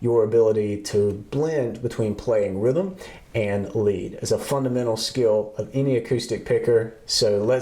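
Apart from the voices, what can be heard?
No everyday noises stand out.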